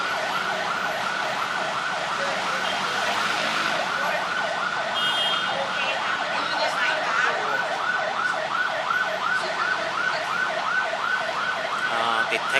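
An ambulance siren wails continuously in a steady, repeating rising-and-falling pattern, loud and close, over traffic noise.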